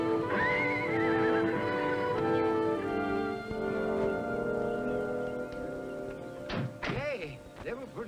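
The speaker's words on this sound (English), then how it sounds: "wicked-looking horses, Mr. Hooton." A horse whinnies loudly, its neigh rising and trailing off, followed by a few thuds and hoof clops, with a voice briefly heard underneath.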